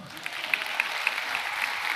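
Audience applause at a church service after a sermon, soft and somewhat distant with scattered sharper claps standing out over a steady low wash.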